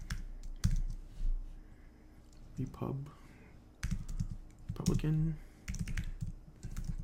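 Keys tapped on a computer keyboard in quick irregular bursts, close and moderately loud, while someone talks over the clicking.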